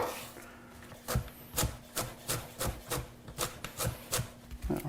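Knife chopping celery into bite-sized pieces on a cutting board, a steady series of about a dozen close, crisp thunks in an even rhythm.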